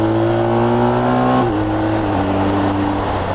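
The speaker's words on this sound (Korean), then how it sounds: "그리고 엔진 음과 배기음인데 생각보다 소리가 커요." A BMW R1250 RT motorcycle's engine and exhaust give a loud, steady drone with strong low harmonics, the pitch dipping slightly partway through as the revs ease, close and continuous with no talking.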